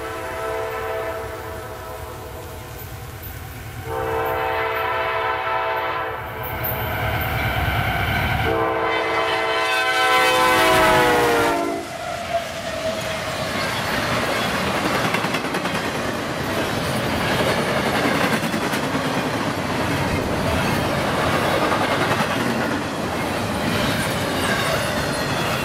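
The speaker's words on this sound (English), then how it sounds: "we now see a westbound CSX intermodal train with what's becoming rare, a YN2 AC44CW leading the way" A westbound CSX intermodal train led by an AC44CW locomotive sounds long, loud horn blasts, then rolls past with a sustained roar of wheels, rattling cars and occasional squeal.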